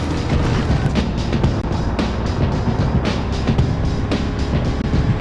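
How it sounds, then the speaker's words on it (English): Racing game car effects from the N64 title Beetle Adventure Racing: a steady engine drone with repeated bumps, skids and collision thuds, loud and continuous throughout. "the sound effects of the car bouncing, turning, screeching, and hitting objects and cars"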